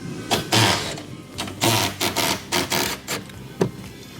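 A wrench loosens the 14 mm top strut bolts on a Subaru Outback, with a string of close ratcheting bursts and mechanical clicks in uneven rhythm, moderately loud with no talking.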